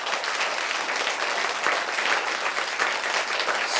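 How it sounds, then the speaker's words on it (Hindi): An audience at a gathering in a Buddhist vihar breaks into loud, continuous applause: many hands clapping together, close and even throughout with no speech. "मेरे लिए आप जोरदार तालियां बजा सकते हैं।"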